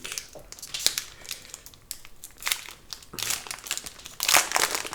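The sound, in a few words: opening a Pokémon card booster pack, foil wrapper crinkling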